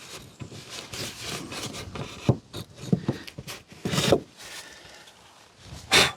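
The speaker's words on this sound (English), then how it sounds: "such a good design, these pipe cutters." A pipe cutter works on a pipe during a cottage renovation, giving close, uneven scraping and rasping strokes in irregular bursts with small clicks between them.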